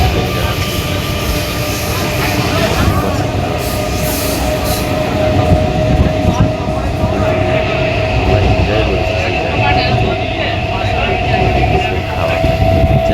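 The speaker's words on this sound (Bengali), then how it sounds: "লোকাল ট্রেনটা" A Bandel local train bound for Howrah rumbles loudly and steadily from start to finish, close-up carriage and wheel noise with faint metallic squeals and indistinct voices buried in the din.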